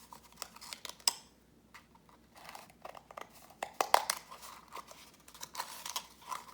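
Scissors cut black construction paper into triangle-shaped cat ears for a toilet paper roll craft. Close, crisp snips come in short uneven bursts, with light paper rustling between them.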